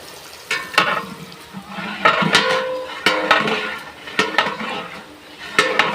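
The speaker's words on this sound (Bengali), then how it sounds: "এই যে এটা কি ভাজতেছেন? এটা পোলাওর জন্য পেঁয়াজ।" Onions frying in a large pot for pulao at a wedding cooking, heard as a busy clatter of metal utensils scraping and stirring in bursts, with a faint sizzle underneath and no talking.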